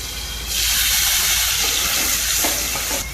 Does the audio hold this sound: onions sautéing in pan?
yes